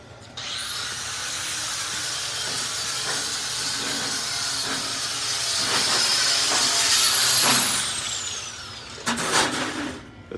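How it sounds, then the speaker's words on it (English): MIG welding in a fabrication shop: a sustained buzzing, crackling arc hiss with a high whine, steady for several seconds before cutting off, followed by brief clanks. "He just started on this MIG welding process."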